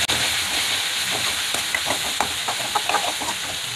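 Onion, grated ginger and chopped green chili frying in hot oil give a steady, close hiss with scattered soft crackles and pops throughout, with no talking.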